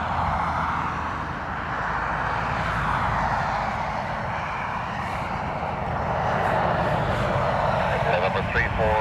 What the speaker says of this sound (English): it's an A330, but it's a military A330, and it has a dual role as troop transport and a